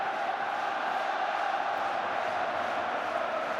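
A large crowd at a rugby match between Edinburgh and visiting supporters forms a steady, dense roar of voices that holds constant throughout without clear peaks.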